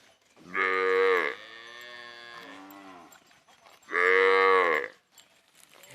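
Red cattle, a cow with her suckling calf, moo loudly and nearby. Two long full-throated bellows are separated by a softer, lower call.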